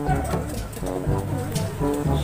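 Taiwan Ring pigeons cooing close by, low soft repeated coos rolling one after another over faint background noise.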